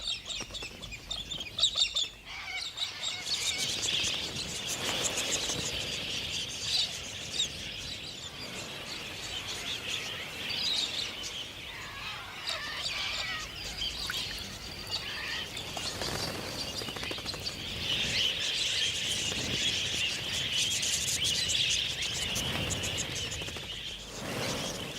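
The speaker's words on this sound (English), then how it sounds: "Galahs seem to have plenty of time for clowning around." Flock of wild galah parrots in Australia calling, harsh raspy screeches and chirps overlapping continuously for the whole stretch, fairly near, with no talking.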